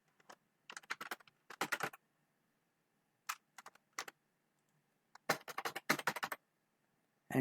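Login credentials tapped out on a computer keyboard, quiet close clicking in short irregular bursts of keystrokes separated by pauses, alone in a silent room.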